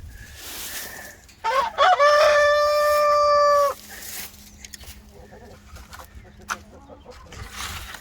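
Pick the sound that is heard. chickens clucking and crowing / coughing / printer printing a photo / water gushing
chickens clucking and crowing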